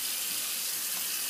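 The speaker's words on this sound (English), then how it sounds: "and then just add the water" A tap runs water onto Mystic Waters shaving soap, a steady hissing, splashing stream that stays even and close throughout with no voices.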